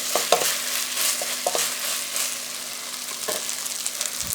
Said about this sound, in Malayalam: ഒന്ന് നെയ്യിലൊന്ന് വറുത്തെടുക്കാം കേട്ടോ